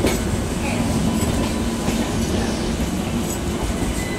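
A passenger train on the Ichapur to Howrah run, rolling along with steady rumble and clickety-clack of wheels over rail joints, loud and continuous throughout, heard from inside or close to the carriages.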